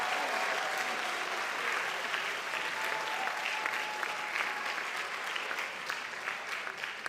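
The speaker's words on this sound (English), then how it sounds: "Y'all are good with all the cheering and the clapping" An audience at a school board meeting honoring an elementary school claps and cheers steadily throughout, a dense, continuous wash of applause with no speech over it.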